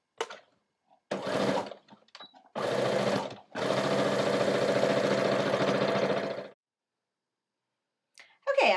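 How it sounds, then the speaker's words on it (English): A sewing machine stitches down the open side of an upcycled T-shirt mini messenger bag, running in short starts and then one long steady whir up close, with silences between. "And I'm just going to stitch all the way down the other open side."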